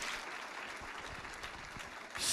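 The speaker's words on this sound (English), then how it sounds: "Get one more round of applause for Kristen." Sustained applause from a crowd of staff at an all-staff rally, steady and fairly distant clapping throughout, swelling louder at the very end.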